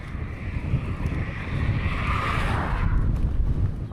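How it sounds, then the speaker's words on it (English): Strong gusting wind in a sandstorm in Algeria, a loud, continuous roar buffeting the microphone with a broad rushing hiss that swells midway and never lets up. "I tried to continue, but the wind is too strong."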